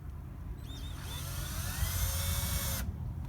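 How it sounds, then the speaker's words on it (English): A power drill whines as it pre-drills a screw hole in redwood trim for a sliding glass door installation, a single high-pitched run lasting a couple of seconds over low background noise. "We're using a little ice pick to make a divot so we can pre-drill that hole."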